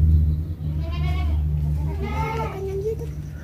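A pregnant Doro goat bleats twice in quick succession, close and clear, over a low steady hum.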